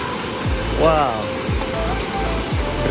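Curug Sidoharjo waterfall in Kulon Progo, Samigaluh, Yogyakarta, rushes as a steady, loud broadband roar nearby, with someone talking over it and occasional thumping footsteps.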